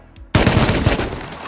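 Gunfire in the survival game Rust: after a brief quiet moment, a loud burst of rapid automatic shots rattles close by, then trails off into echoing reports.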